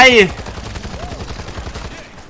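Gunfire in the World War Z Aftermath video game, a loud opening shot followed by a rapid string of quieter repeated shots that fade toward the end.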